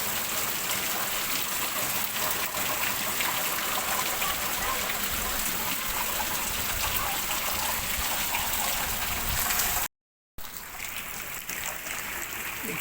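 Heavy rain pours outside a house, a dense steady hiss of falling water that runs without pause, briefly cutting out near the end before resuming.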